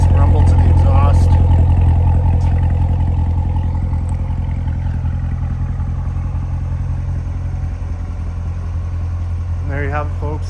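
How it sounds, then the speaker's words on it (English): A 2016 Chevrolet Corvette Z51 idles close by with a steady, low exhaust rumble that fades slightly over time, with a faint rattle on top. "Nice rumble to the exhaust."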